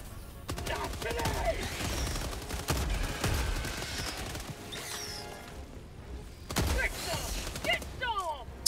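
Shotgun blasts in Helldivers 2, heavy booming shots spaced a few seconds apart amid battle noise and mechanical reload clatter, with a voice talking over the action.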